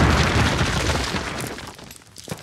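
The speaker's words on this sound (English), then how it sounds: "Place your explosives on the cinder block wall." Explosives blow apart a cinder block wall in Call of Duty: one loud, broad blast hits at once, then rumbles and crumbles away over a couple of seconds before a small late crack.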